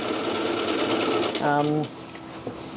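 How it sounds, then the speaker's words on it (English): A sewing machine stitches jeans during an alteration for better fit, running with a steady whir that rises briefly in pitch before settling, while a person talks over it. "I'm moving away from my stitch line in towards the pants and creating a second stitch line"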